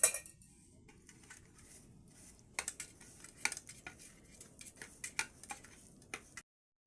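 A spoon mixing ginger-garlic masala paste with a spoonful of oil in a bowl for chilapi fish, quiet at first, then a run of sharp clinks and scrapes against the bowl, close and intermittent.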